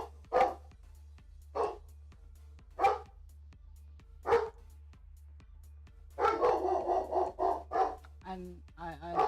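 Dog barking indoors: several single, spaced barks, then a quick burst of barks and yips, close and clear against a steady low hum.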